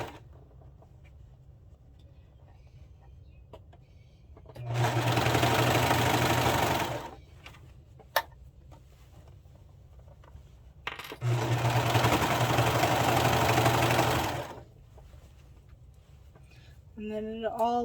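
Sewing machine stitching seams on a Book Club top with chevron details, in two sustained runs of steady whirring separated by a quiet pause, with a faint click between them.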